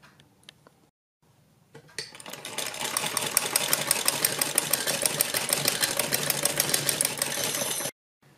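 A sewing machine stitching a strip of fabric for a kurti runs in a steady, rapid mechanical chatter for about six seconds, close and loud, after a few soft handling clicks, then stops abruptly.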